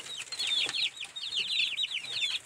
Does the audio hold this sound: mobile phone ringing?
no